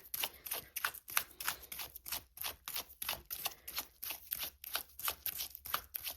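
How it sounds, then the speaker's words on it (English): Tarot cards are shuffled by hand in quick repeated bursts, a crisp rhythmic riffling and slapping that comes about twice a second, close and fairly quiet. "Let me shuffle out your card for you."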